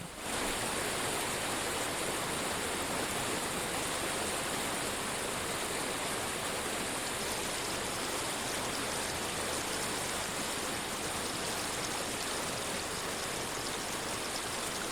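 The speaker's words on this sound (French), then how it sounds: "le bruit de la Sarenne qui défile en une suite de cascadelles bondissantes dans le fond du canyon." Continuous rushing water fills the air, a steady broadband roar of the Sarenne mountain river tumbling over a series of small waterfalls in a canyon bottom, with no voices.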